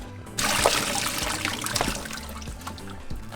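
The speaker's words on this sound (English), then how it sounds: "we're going to remove them from the stove and drain the water." Water from boiled potatoes pouring off into a sink, a steady close splashing trickle with a few sharper gurgles and spatters, no voices.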